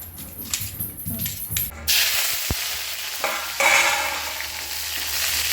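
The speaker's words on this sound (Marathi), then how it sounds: "खरपूस मिरच्या तळून घ्यायच्या आहे." Green chillies and peanuts fry in a pan: a soft stir and clatter first, then a loud, steady sizzling hiss that swells and carries on to the end, with no one talking.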